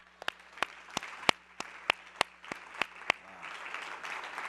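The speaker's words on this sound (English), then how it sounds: "Ladies and gentlemen, can we clap for it" A small audience claps, with about a dozen sharp, distinct claps in an uneven rhythm close by, giving way to a softer patter of clapping at the end.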